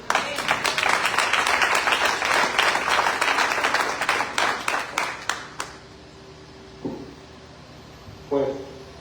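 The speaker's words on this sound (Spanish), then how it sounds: "Un aplauso para nuestro rey." A church congregation bursts into dense, loud applause for about five seconds, the clapping thinning out and stopping, followed by a quiet room with a couple of faint knocks.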